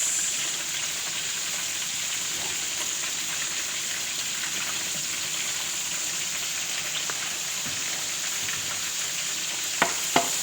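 Tomato paste stirred into a sizzling frying pan for a fish dish: a steady, soft frying hiss continues throughout, with a couple of light utensil clicks near the end.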